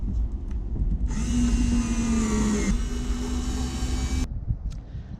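A power screwdriver whirs steadily for about three seconds while backing screws out of a van's back plate, close and loud, over a rumbling background.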